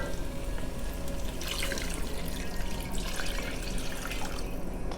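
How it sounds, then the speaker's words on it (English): Roughly three cups of water pour steadily into a cooking pan of seasoned chicken for tostadas, a continuous close splashing stream that runs for the whole stretch without any talk. "I'm going to now pour in approximately 3 cups of water"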